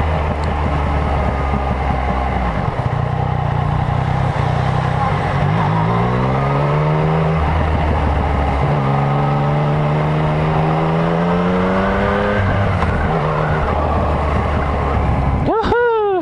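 A 2017 Yamaha MT-09 motorcycle rides along a coastal road, its engine loud and close. It drones steadily, then climbs in pitch through several gear changes and settles back to a cruising tone.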